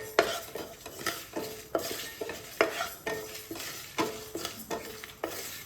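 Red chillies, sesame, fenugreek, cumin and mustard seeds dry roasting in a pan, stirred with repeated scraping strokes in a steady rhythm, close and moderately quiet, with a faint crackle between strokes.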